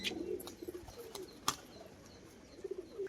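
Fancy pigeons kept for sale coo softly in low repeated notes while wings flap in a few sharp bursts, one loud clap near the middle, all fairly faint and nearby.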